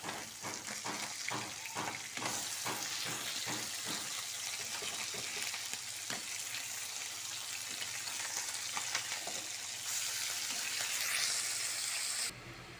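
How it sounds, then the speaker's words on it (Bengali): Small mourola fish sizzle and crackle as they fry in hot oil, a constant loud spitting hiss with a few stirring clicks early on and no voices. "মাছগুলোকে উল্টে পাল্টে ভেজে নেব।"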